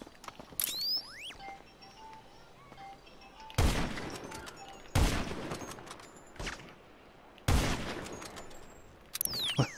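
Gunfire in GTA V Online, three loud sharp bursts of shots a second or so apart amid scattered smaller clicks and game effects, with brief chirping tones between.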